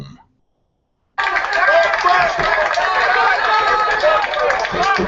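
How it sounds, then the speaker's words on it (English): Crowd noise breaks out after a brief silence as police depart, a dense outdoor roar of cheering and voices that holds steady and loud to the end. "People are cheering because the police are leaving."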